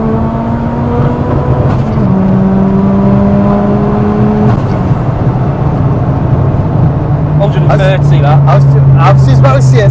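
A 650bhp Ford Sapphire Cosworth pulls hard in third gear, heard from inside with a loud steady engine drone rising in pitch, while people talk over it.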